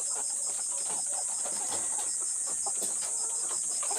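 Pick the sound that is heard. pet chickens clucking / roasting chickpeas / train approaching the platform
pet chickens clucking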